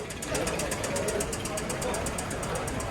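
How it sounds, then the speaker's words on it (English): A 2007 Hyundai Sonata with a four-cylinder engine and automatic transmission runs steadily, with an even, rapid pulsing engine note close by, partly under talk at a busy auto auction. "Got a 4-cylinder automatic transmission, push that motor, sounds good"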